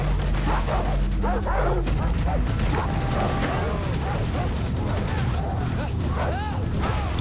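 Dogs bark and yelp repeatedly over a dense, noisy Far Cry 3 soundtrack, with speech mixed in throughout.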